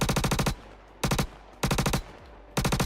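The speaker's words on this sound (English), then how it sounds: "This whole idea of Gemini having ridiculous gunfire is awesome." Gemini gun in the video game Star Citizen firing four rapid automatic bursts separated by short pauses, loud, close and punchy, with no talk over it.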